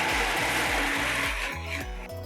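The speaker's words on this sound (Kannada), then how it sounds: "ಸ್ವಲ್ಪ ನೀರು ಹಾಕ್ಕೊಂಡು ನಾನೀಗ ಮಿಕ್ಸಿ ಮಾಡ್ಕೋತಾ ಇದ್ದೀನಿ" A kitchen mixer grinder blends jaggery with water, a loud, continuous whirring grind with a rhythmic churning pulse throughout.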